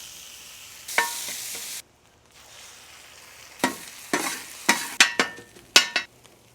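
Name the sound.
potatoes frying in beef fat in a pan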